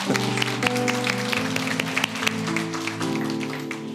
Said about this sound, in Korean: 두 분 목사님에게도 좀 축복과 격려의 박수 함께